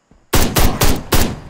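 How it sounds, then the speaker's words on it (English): Four loud, evenly spaced bursts of automatic gunfire in the motorcycle-gang action game Ride To Hell: Retribution, each roughly a quarter second long, crackling and close, with no talking over them. "Yeah, wasting a lot of ammo on this bit."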